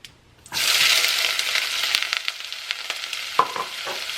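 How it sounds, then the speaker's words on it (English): Onions and garlic hit hot olive oil in a pan with a sudden loud sizzle that settles into steady frying hiss, with a few stirring scrapes and clicks near the end. "I'm going to put my olive oil in a pan and saute up my onions and my garlic until they are fragrant."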